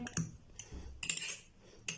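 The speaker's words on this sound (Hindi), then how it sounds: "इन सारी चीजों को अच्छी तरह जो है वो ऑमलेट में मिक्स कर लेंगे" A spoon clinks and scrapes against a bowl in quick, uneven strokes, close and fairly quiet, as eggs are beaten with omelette ingredients.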